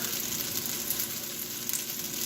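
Butter and cooked macaroni sizzle in a hot pan, a steady close crackling hiss with small pops, no voices.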